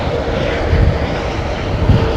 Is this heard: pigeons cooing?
no